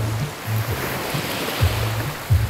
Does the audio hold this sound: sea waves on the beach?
yes